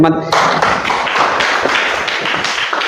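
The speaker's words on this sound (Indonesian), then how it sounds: "Tepuk tangan dulu." Children clap their hands together in a classroom lesson, a dense burst of overlapping taps that follows a voice and continues steadily for a few seconds.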